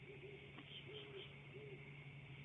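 Faint, low great horned owl hoots repeat at a steady pace in the distance over a constant background hum.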